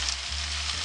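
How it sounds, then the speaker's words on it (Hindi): Chicken pieces frying in a karahi with sautéed ginger and garlic give a brief, steady sizzle with a soft stirring scrape near the end. "तो चिकन को भी मैं अच्छी तरह फ्राई कर लेती हूँ।"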